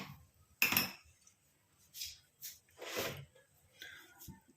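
An iron kadai set down on a stove: a sharp metallic clank near the start, then a few softer scrapes and knocks in a quiet kitchen.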